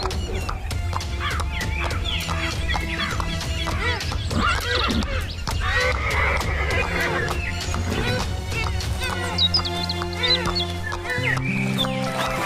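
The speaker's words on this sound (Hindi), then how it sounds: "राजा अपने घोड़े पर सवार होता है और जादुई तालाब की तरफ रवाना हो जाता है।" A horse neighs repeatedly as a king rides off on it toward a magical pond, whinnies mixed with clip-clop hooves and a busy layered background, under storytelling narration.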